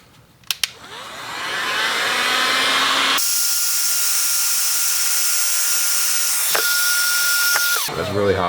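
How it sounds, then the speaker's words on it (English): A heat gun heats a motorcycle coolant line for bending on a Honda VFR 800, a loud, steady blowing roar that starts after a click, shifts in tone partway through, then cuts off near the end. "My heat gun."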